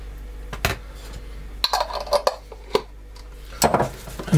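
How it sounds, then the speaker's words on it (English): Lemon curd and butter being mixed by hand in a bowl, heard as sparse clinks and scrapes of a utensil against the bowl, a few sharp taps spread irregularly across a quiet kitchen. "I'm just going to mix up lemon curd"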